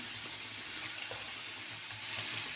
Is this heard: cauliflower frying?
yes